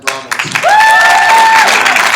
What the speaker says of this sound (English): you can give a big round of applause to Mr. Michael